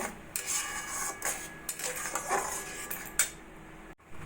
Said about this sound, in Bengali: এইভাবে নাড়া দিয়ে যতক্ষণ আমের পিউরিটা একদম শুকনো শুকনো না হচ্ছে ততক্ষণ আমি রান্নাটা করে নেবো